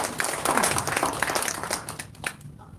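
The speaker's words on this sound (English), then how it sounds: "Let's give him big applause" Applause from the audience at a live signing event for a Swissbiotech agreement, a steady patter of many hands lasting about three seconds and thinning toward the end.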